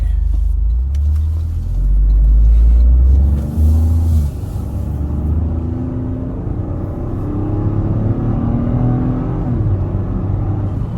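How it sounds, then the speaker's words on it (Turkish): A 2025 Toyota GR Corolla's 1.6-litre, 300-horsepower engine rumbles and revs steadily from inside the cabin, the deep drone rising and falling as the car drives along, loud and continuous. "Abi sese baksana gürül gürül ya."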